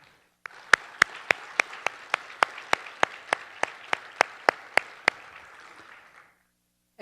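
Applause for award nominees at a community awards event: about sixteen sharp, evenly spaced claps ringing out one after another over a faint room murmur, loud and close, then fading to silence.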